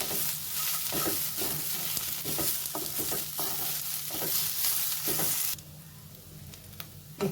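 Onion, coconut and cashews sauté in a hot pan, a steady close sizzle broken by repeated scraping stirs of a spoon, the frying noise dropping off sharply near the end.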